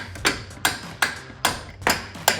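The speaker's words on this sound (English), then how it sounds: "just take a hammer," Six crisp hammer taps driving a bolt into a Toyota Tacoma front upper control arm, at a steady, even pace, each ringing briefly, close and fairly loud.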